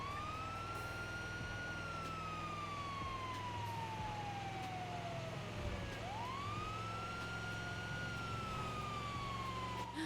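Police sirens wail in a GTA V roleplay game, a loud close siren sweeping slowly up and down in long cycles over a constant engine drone, with no voices in between.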